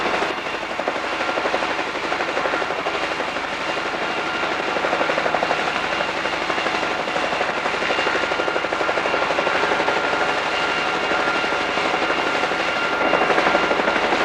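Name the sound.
helicopter flying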